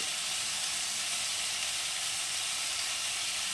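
A masala of tomato and onion with salt and turmeric fries in a pan, giving a steady, close, even sizzle with a bright hiss that holds unbroken from start to finish.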